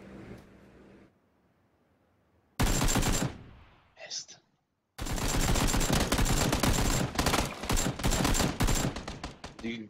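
Gunfire in the PUBG video game: a short loud burst, a quieter pop, then several seconds of rapid, sustained automatic fire from nearby in dense volleys.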